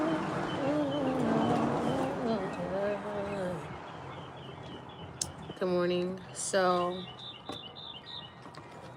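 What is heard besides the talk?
birds singing in the morning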